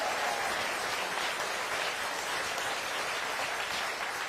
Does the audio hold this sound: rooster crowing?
no